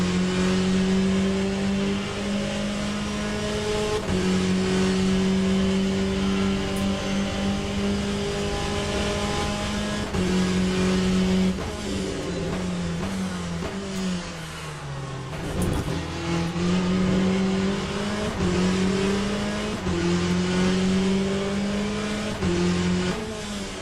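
A race car in the Le Mans Ultimate sim racing game brakes hard into turn one, its engine note dropping through downshifts before revving back up with rising, whining tones across repeated gear changes, loud and continuous without speech.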